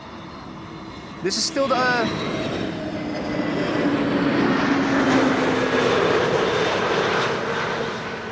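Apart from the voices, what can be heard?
airplane at Amsterdam Schiphol Airport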